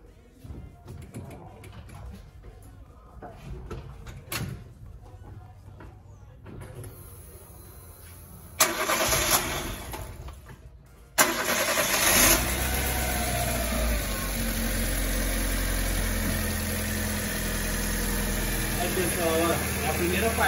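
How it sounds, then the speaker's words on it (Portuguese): A Fiat Uno Fire's swapped engine cranks and catches, then settles into a loud, steady running rumble after a few seconds of quieter handling noises. "eu vou estar dando a partida nesse motor aqui para vocês estarem vendo o funcionamento"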